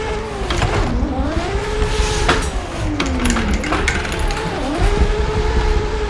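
A drift car engine in Assetto Corsa revs up and down in rising and falling sweeps, loud and continuous, with sharp pops and crackles between the throttle blips.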